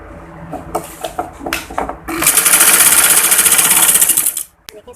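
A sewing machine stitches a tuck design onto a trouser bottom, starting with a few short jerky bursts before a loud steady rattling run that stops abruptly, close up, with a voice heard faintly.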